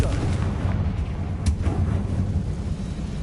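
In Hogwarts Legacy, a Confringo blasting spell sets off an explosion, a dense, loud low-end roar of rumbling blasts that holds steady for the whole span with one sharper crack in the middle.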